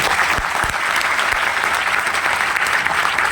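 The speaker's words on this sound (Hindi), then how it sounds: "उनके लिए एक बार जोरदार तालियां बजाई दीजिए।" Students in a large hall clap loudly and continuously for their parents during a JEE exam motivational talk, a dense, steady roar of applause with a few sharp thumps near the start.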